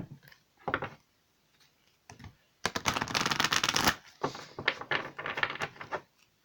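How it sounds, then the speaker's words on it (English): Energy Oracle cards are shuffled in short bursts of crisp riffling and tapping, close and fairly loud, separated by brief pauses and with no talking. "Next we'll have Energy Oracle cards by Sandra Ann Taylor."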